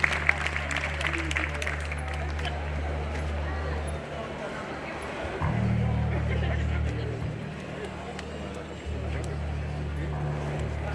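An audience at a choir concert during a neighbourhood festa major in Barcelona's Eixample claps in sustained, dense applause that fills the whole stretch, with a low hum underneath and an announcer's voice speaking over the clapping.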